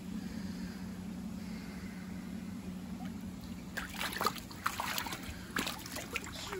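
Two pumps drain water from a koi pond, giving a steady low mechanical hum with faint trickling, joined by louder splashes and sloshing in the last few seconds.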